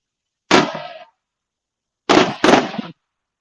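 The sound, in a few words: private fireworks, large mortar shells going off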